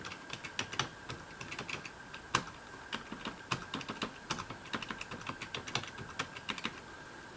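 Steady typing on a computer keyboard during a beginner touch-typing drill, a quiet run of light key clicks in an uneven rhythm with a few louder strokes, heard alone without talk.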